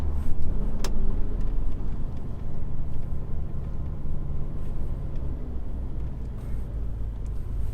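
Heavy truck rumbling along through a small village near Clumpton, a steady low engine drone held close throughout with one brief sharp click early on.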